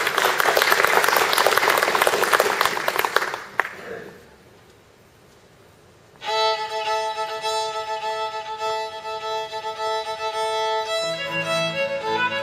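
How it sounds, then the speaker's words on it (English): Audience applause for a youth contestant at a fiddle championship in Arkansas, loud and steady for about three seconds, then dying away; after a brief quiet, a fiddle tune starts up. "So a nice warm round of applause for contestant number five."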